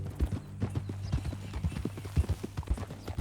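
Horse hooves in Red Dead Redemption 2 clop in a steady, close walking rhythm, with several loud beats and a faint neigh, and no talk over them.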